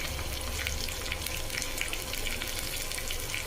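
Onions and mint sizzle steadily in hot oil for a vegetable biryani, a constant loud frying hiss with faint crackles and no talking.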